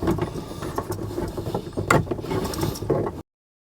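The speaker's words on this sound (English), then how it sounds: "I'm going to unscrew it from the housing." A water filter is unscrewed from its plastic housing on PEX plumbing, with close rattling, clicking and grinding mechanical sounds in an uneven run before stopping abruptly.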